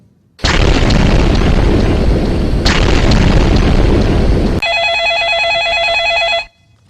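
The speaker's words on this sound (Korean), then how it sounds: "경기도 중 폭발음과 화재가 발생하였습니다." Loud explosion blast during a fire safety drill at a sports gymnasium basketball game, a sustained roaring boom lasting several seconds with a second surge midway, followed by a shrill ringing alarm bell before cutting off.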